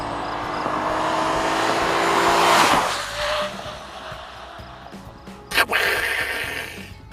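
A 2015 Kia Sorento accelerates hard on a track with a sustained engine roar and tire noise, which then fades as it pulls away, followed by a brief thump.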